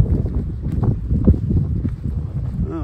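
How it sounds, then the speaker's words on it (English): Strong, gusty wind buffets a microphone on a lakeshore at low water, a steady low rumble with surging gusts and no speech. "it's so windy. It's so windy. Super windy."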